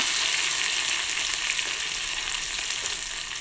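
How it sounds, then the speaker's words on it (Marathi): Garlic and red chillies with cumin seeds sizzle in hot oil in a pan, a steady, close crackling fry with no talk. "जिरं थोडंसं लालसर झालं की आपण इथे टाकणार आहोत लसूण"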